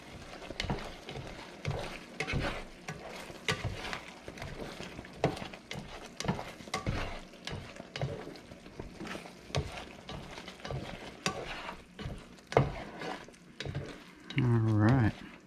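Tuna carbonara pasta with black pepper stirred in a pan, giving steady close clinks and scrapes of a utensil with soft sizzling throughout; a voice hums briefly near the end.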